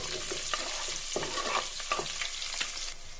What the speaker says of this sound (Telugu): ఆనియన్ పచ్చిమిర్చి అవైతే ఫ్రై అవుతున్నాయి కదా